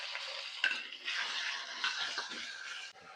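Garlic and minced meat sauté in oil, giving a soft crackling sizzle with bursts of stirring and scraping against the pan, fairly quiet and uneven.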